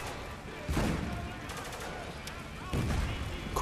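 Shotgun blasts in Spec Ops: The Line, a few loud booming shots with rattling gunfire and battle noise around them, fairly close.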